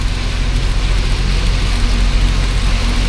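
Rain falling while a truck drives on a road, a dense, steady patter over the constant low drone of the engine.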